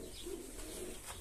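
Pigeons coo softly in a pigeon loft, a low, faint murmur against a steady background hiss.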